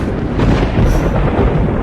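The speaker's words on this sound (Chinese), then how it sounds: "怎么雷声这么大？" Loud, continuous thunder rumbles through the whole stretch as a heavy, low roar with no pauses, and no one speaks over it.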